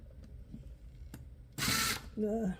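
A power drill drives a long screw at an angle into an IKEA NORDEN gateleg table leg, a short whirring burst followed by a slower, pulsing run as the trigger is eased, with faint clicks and background noise before it.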